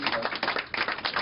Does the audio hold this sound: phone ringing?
no